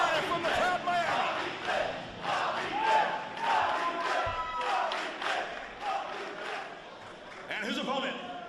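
A wrestling crowd in Miami Beach shouting and cheering in rhythmic waves of chanting voices, loud and close, with a few thuds mixed in.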